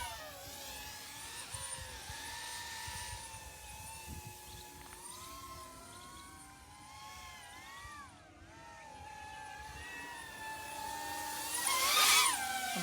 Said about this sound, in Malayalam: സിമ്പിളായിട്ട് ഡ്രോൺ പോകുന്നുണ്ട്, ഒരു പ്രശ്നമില്ല.